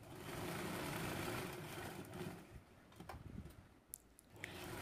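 A sewing machine stitches along the edge of a kitchen apron. A steady, low motor whir runs for about two and a half seconds, then gives way to scattered light clicks and ticks.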